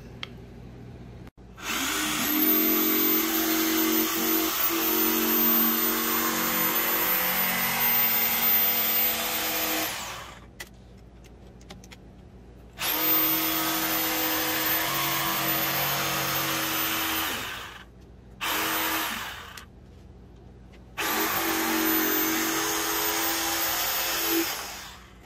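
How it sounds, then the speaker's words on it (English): Small jigsaw cutting out an exhaust tubing layout template, loud close buzzing runs of several seconds each, stopping and restarting four times with short quiet gaps between cuts. "Go get my little jigsaw and whack her out."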